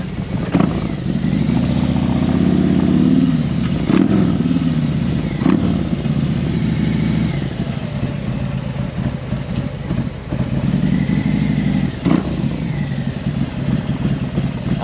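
A 2024 Harley-Davidson Road Glide with a 528 Red Shift Cam engine rumbles loudly and steadily up close, its deep idle swelling in a few revs, with no one talking.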